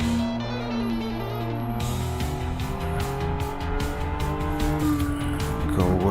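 A race car in the Assetto Corsa VR sim slides into oversteer, its engine droning steadily while tires squeal through the slide, loud and continuous with a rising whine at the end.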